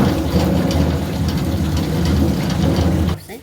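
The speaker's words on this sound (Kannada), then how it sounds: "ಇದನ್ನೀಗ ಮಿಕ್ಸಿಗೆ ಹಾಕೊಂಡು ಬರ್ತೆ" A mixer grinder churns cucumber, coconut and jaggery into batter, giving a loud, steady whirring roar that runs unbroken before cutting off abruptly near the end.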